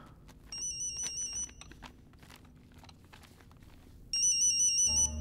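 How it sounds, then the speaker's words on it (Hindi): A phone rings twice in electronic trilling bursts, separated by a quieter pause with faint rustling and footsteps. "ये किसका फोन है?"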